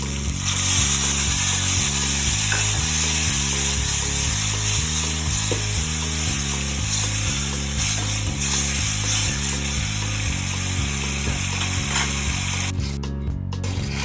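Tamarind pulp goes into a hot pan of oil for South Indian tamarind rice (pulihora), giving a steady, close sizzle and hiss under looping background music, with a brief crackling burst near the end.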